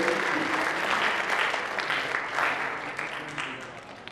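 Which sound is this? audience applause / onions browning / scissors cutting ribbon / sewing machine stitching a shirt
audience applause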